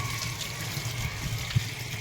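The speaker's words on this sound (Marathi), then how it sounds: "भाजी आपण आता धुवून घेतोय" Bharangi wild greens from the Konkan are washed under running water, a low, even gush with a faint hum beneath and one soft knock near the end. Quiet and steady, with no talking.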